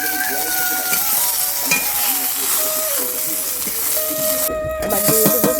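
Pieces of fish for Bengali macher jhol fry steadily in hot oil, giving a continuous close sizzle with faint occasional clinks of a utensil and some soft background tones.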